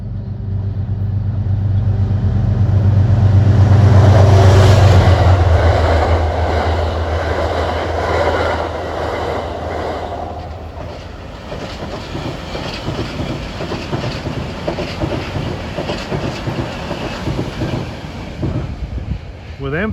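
Metro-North M3A commuter trains pass loudly and close heading toward Croton-Harmon, a heavy rumble swelling then giving way to rapid clickety-clack wheel beats and a brief squeal at the end.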